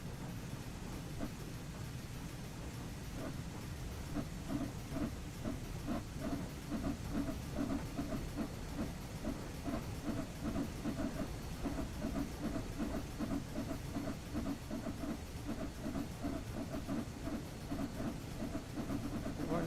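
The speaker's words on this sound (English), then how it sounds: "Now that the locomotive is moving, you can open the regulator some more" In a train video game, a steam locomotive gets under way with steady hissing steam and faint rhythmic chuffing and rumble running continuously at a moderate, even level.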